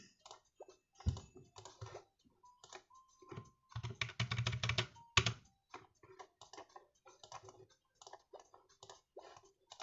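Keyboard hooked up in place of a computer, typed on in irregular bursts of close clicking keystrokes with a dense flurry midway and short pauses between, no talk.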